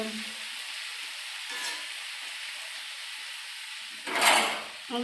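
Dried fish fries in a pan with a steady, close sizzle and hiss that swells into a louder spattering burst near the end.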